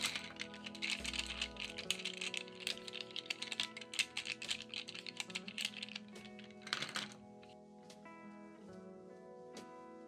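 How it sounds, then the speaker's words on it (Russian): Wooden Brauberg and Berlingo colored pencils clink and click against each other in a rapid, uneven run of bright taps, close and fairly loud, with steady tones playing underneath and a quieter stretch near the end. "Конечно, я решила послушать Берлинга и Брауберг. Оба набора деревянные, но Берлинга вроде позвончее будут."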